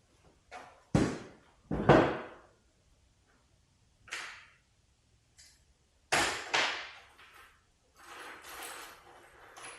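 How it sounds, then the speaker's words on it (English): Metal exhaust brackets, nuts, bolts and washers for an Aprilia Tuareg 660 motorcycle are shoved into a bag, making several sharp clanks and clatters with rustling between them and quiet pauses. "we'll shove all the bracketry, nuts, bolts, washers, everything"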